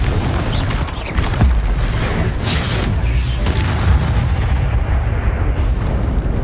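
The Confringo blasting curse in Hogwarts Legacy on PS5 goes off as a loud, close, rumbling explosion that roars on for several seconds and then tails away.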